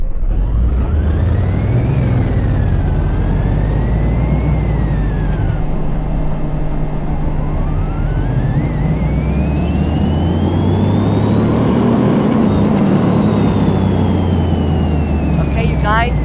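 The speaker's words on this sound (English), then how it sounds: "So now we have switched it to a V8 2-carb HOV supercharged engine." A supercharged V8 car engine in a driving game revs and accelerates continuously, a loud droning roar with rising and falling pitch sweeps, while someone talks over it.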